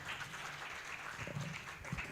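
Quiet applause from a conference audience welcoming a speaker at a biomedical and biotechnology conference, soft scattered clapping heard at a distance, with a few low thumps near the end.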